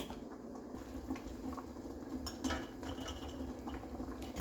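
Glass canning jars lowered into a pressure canner, with faint scattered clinks and knocks of glass against metal over a low steady hiss of water, quiet and close.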